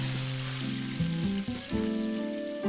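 Chicken nuggets fry in the video game Cook Serve Delicious 2, giving a steady, close sizzle that runs throughout over sustained tonal game music.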